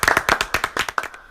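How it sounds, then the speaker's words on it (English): Hands clapping in a quick, uneven burst of about a dozen close, sharp claps that thin out and stop, with no voices over them. "So I want you to applaud yourself."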